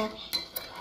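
Utensils mix a Vietnamese sesbania flower salad in a bowl, with two short clinks of metal on dish over soft stirring.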